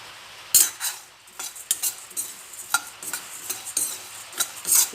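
Poha dry-roasted in a kadai over medium heat without oil, heard as a run of close, irregular scraping and clinking stirs against the pan over a faint low hiss.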